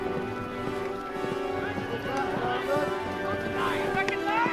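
A horse passes along a road on a War Horse film set, its hooves clip-clopping steadily at moderate distance while a crowd murmurs and talks in the background.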